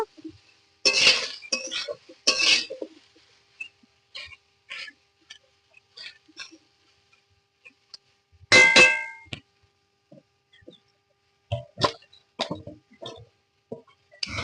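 A metal lid set over a pan of frying ridge gourd, pumpkin and potato in a home village kitchen, giving sharp clanks and clinks in several separate bursts, close and fairly loud, with quiet gaps between.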